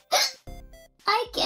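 A child hiccups once, a sharp short catch between bursts of the child's own speech.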